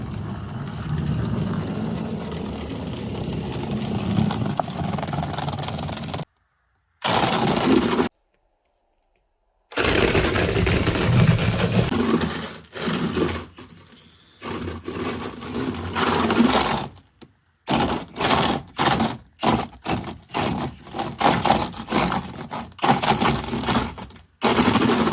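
An electric motor in a small custom RC 4x4 truck running on a big battery, whirring in repeated bursts of varying length, broken by short silent pauses and clusters of quick revving pulses.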